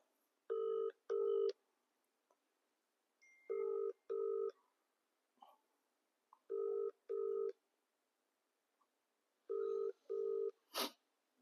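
A telephone call rings out in repeated pairs of electronic ring tones separated by silence, four double-pulse cycles in all, clear and near, ending with a short click as the call connects.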